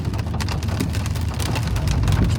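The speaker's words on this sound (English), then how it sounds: "It's pouring down as well." Heavy rain pouring down outdoors, a steady dense wash of drops with a low rumbling undertone, continuous and fairly loud with no voices.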